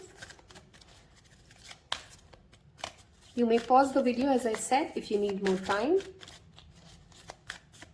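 A deck of tarot cards is shuffled in quick riffling bursts, close and crisp, with someone speaking in between and over the shuffling.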